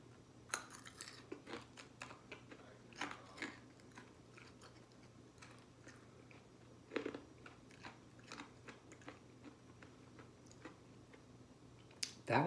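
Crunchy wasabi-flavored peas are chewed close up, with scattered sharp crunches and bites at an irregular pace over a quiet background hum, with a louder crunch at the end.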